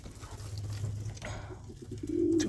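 A young pigeon in a breeding nest box gives soft, low cooing calls over a steady low hum. The calls grow a little louder toward the end, with no talking.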